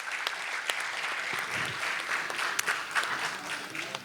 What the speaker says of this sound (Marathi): पुन्हा एकदा टाळ्यांचा गजर झालाच पाहिजे.